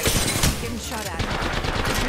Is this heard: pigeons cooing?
no